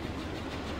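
Train in a video game rumbling steadily at close range, a continuous low rolling drone with no voices over it.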